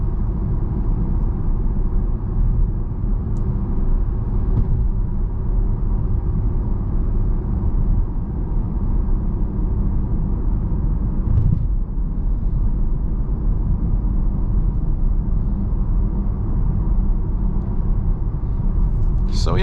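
A 2021 Audi TTS with 288 horsepower accelerating from inside the cabin, a deep steady engine drone and rumble holding throughout, with a brief swell partway and light road noise.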